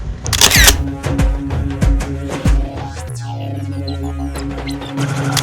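A single-lens reflex camera fires its shutter at a fast shutter speed as rangoli colour is sprinkled around a Ganpati idol on plain white paper at home. Several sharp, close clicks ring out over a low background hum.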